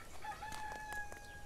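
A chicken clucks faintly on a farm in the game Barn Finders, a few short, soft calls over a low, steady background.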